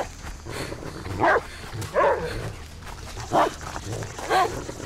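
A dog in the survival video game Die Young barks four times in separated, evenly spaced bursts, loud and close over a low background hum with no talk.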